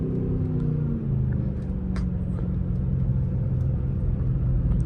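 A Mercedes-AMG GLE 63S cruises in traffic with a steady low engine rumble and road noise, heard from inside the vehicle at an even, moderate level without acceleration bursts.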